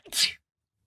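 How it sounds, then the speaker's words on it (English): A single short, sharp sneeze bursts out close by, then silence. "I have to sneeze."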